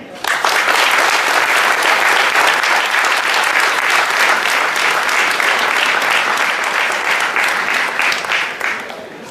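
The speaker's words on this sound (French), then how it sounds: "Je vous demande d'applaudir très fort Mohamed Ali Chahine" A large audience at a 2017 UNCP tournament event in Paris applauds loudly and steadily, a dense, sustained wash of clapping that holds for about nine seconds before easing slightly at the end.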